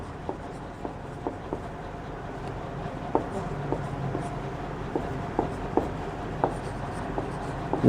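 Pen or chalk strokes of someone writing maths during a Class 12 differentiation lesson, appearing as short, regular tapping marks spread steadily across the clip, quiet and close.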